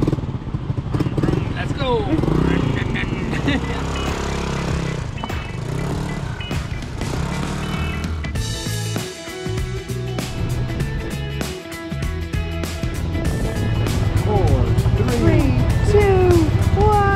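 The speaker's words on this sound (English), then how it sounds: "We've rented ourselves a scooter to go and check them out." Rented scooter on a road in Vietnam, engine running and riding along with a steady motor drone and traffic noise, while people talk and shout excitedly over it throughout.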